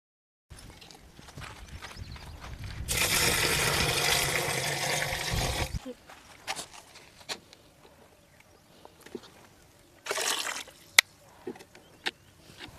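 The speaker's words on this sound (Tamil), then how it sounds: "இந்த 12 கிலோவுக்கு ஈக்குவலாக தண்ணி ஊற்றிடுவோம்." Water poured in a steady, loud gush for about three seconds into a fermented EM fruit mixture, followed by quieter clunks and a second short splash, with no talk.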